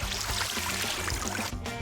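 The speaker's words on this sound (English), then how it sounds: "The water effect, the sound more specifically, is quite a lot louder than you" Continuous rushing, trickling water from the TaleSpire tabletop game's water effect, steady and fairly loud, with a faint low hum beneath and no break throughout.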